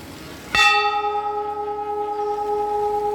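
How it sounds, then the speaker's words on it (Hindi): A temple bell at Kedarnath temple is struck once, ringing out loud and close, then hums with a long, steady ringing decay for about three seconds. "मैं घंटा बजा दूँ।"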